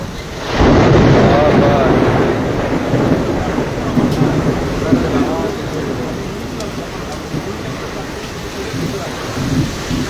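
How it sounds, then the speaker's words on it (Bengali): Heavy downpour during a storm in Rupnarayanpur, a dense steady roar of rain close by with rumbling low thunder-like surges, while a voice talks over it throughout. "প্রচণ্ড প্রচুর বৃষ্টি হচ্ছে এখানে"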